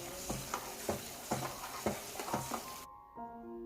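Sugar syrup for crispy badam puri boils in a pan, giving steady close bubbling and sizzling with a few rhythmic stirring scrapes, then a brief tonal chime at the end.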